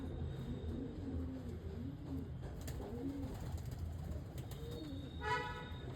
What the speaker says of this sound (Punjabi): ਇਹ ਸਾਰੀਆਂ ਕਬੂਤਰੀਆਂ ਆਪਣੀਆਂ ਉਹਨਾਂ ਦਾ ਤੁਹਾਨੂੰ ਵਿਖਾਉਣੇ ਆ